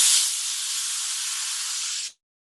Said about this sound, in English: I'm gonna start taking chunks of the pasta straight from the water into the olive oil